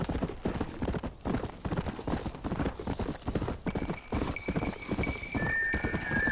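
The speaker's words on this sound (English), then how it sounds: "This horse is unrealistically fast." Rapid hoofbeats of a galloping horse in Red Dead Redemption: Undead Nightmare, steady clip-clop rhythm, with a brief whinny-like tone near the end.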